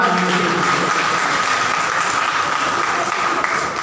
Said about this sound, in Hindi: घनघोर तालियों से।